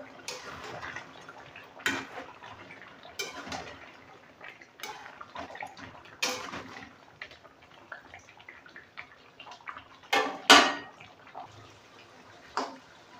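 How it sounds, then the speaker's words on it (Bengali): Potato chunks stirred with a spatula in a pan of chicken curry masala give faint, scattered taps and scrapes at irregular intervals, with a few sharper clinks standing out against near-silence. "এবার আলুগুলো দিয়ে দেবো, নেড়ে নেবো।"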